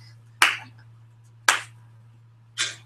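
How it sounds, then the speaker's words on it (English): Three slow, deliberate claps spaced about a second apart, each a sharp close smack with a short decay, over a steady low electrical hum. "So that's a slow clap."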